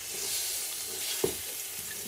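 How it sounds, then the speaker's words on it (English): Derica tomato paste fries for a jollof rice sauce base, giving a steady, moderate sizzle with faint stirring and one sharp utensil knock midway. "So I'm going to fry them so I can add to my"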